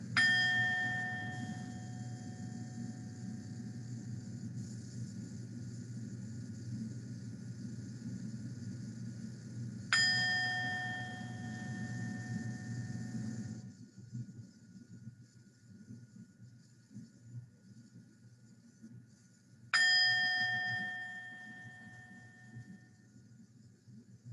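A meditation chime rings three times at roughly ten-second intervals, each bright metallic strike decaying slowly over a low, steady background rumble.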